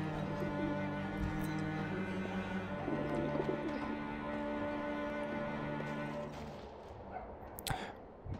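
Pigeons coo softly in Alice Madness Returns, low throaty calls over a steady droning ambient bed, fairly quiet, with a sharper sound near the end and no talk.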